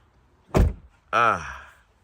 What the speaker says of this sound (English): He can shut his doors now.